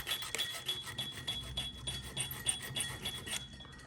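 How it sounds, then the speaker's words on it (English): A hand file rasps across a small clamped screw in steady back-and-forth strokes, about two per second, close and clear with a bright metallic edge, then stops. "And I just start filing away."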